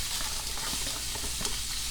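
Diced onion hits a hot pan for braised beef short ribs, giving a steady close sizzle and crackle of frying that runs unbroken and fairly loud.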